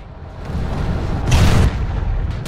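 Planetside 2 tank shell explosion blows up a player, a deep, loud rumbling boom with a brief sharper burst in the middle, sustained low roar around it, no talk.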